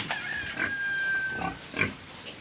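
Piglets and sows on a farm squeal and grunt in a short close burst, with one long thin high squeal followed by a few quick snorting grunts.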